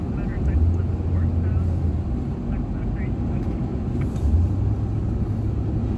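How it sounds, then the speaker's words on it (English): Police helicopter flying overhead at night, a continuous low rotor and engine drone that swells slightly near the start and again toward the end, heard at a distance without speech. "That is the helicopter we are looking at."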